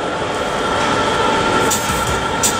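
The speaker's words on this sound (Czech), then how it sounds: "vlak TGV je naprosto úžasný" Steady rumble and rolling roar of a TGV high-speed train carriage heard from inside, continuous and fairly loud with faint clatter, no voices.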